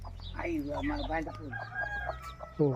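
A rooster crows in a tribal forest village, the call rising through a stretch of close speech and ending under a sudden loud burst near the end.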